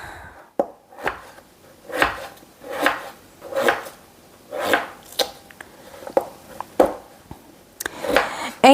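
A knife dices onions on a cutting board in a steady series of about a dozen close, crisp chops, each a short woody knock, with brief pauses between bursts and no talking.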